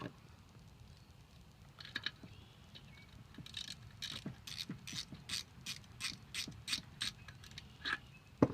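Carburetor mounting screws on a weed trimmer being tightened with a ratchet, heard as quiet, close clicking in short, steady rhythmic bursts that grow more regular toward the end.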